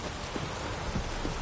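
Steady rain pours in The Witcher 3: Wild Hunt, a dense, even hiss with faint thunder rumbling underneath, continuous and fairly soft throughout.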